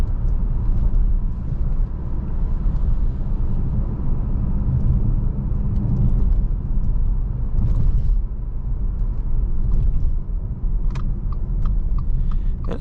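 Inside a 2022 Subaru Ascent Touring on the road, a steady low tire and road rumble carries on throughout, with a few brief thumps and rattles from bumps near the end.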